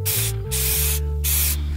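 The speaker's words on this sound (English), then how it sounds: "I'm doing spray paint." Short hissing bursts of an Eastwood aerosol spray paint can on a chain link fence, three or four quick sprays separated by brief pauses, close and loud.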